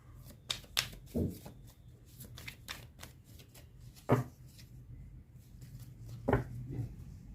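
Tarot cards are shuffled and drawn indoors, making soft riffling flutters and a few sharper card snaps and taps, quiet and close, with no speech over them.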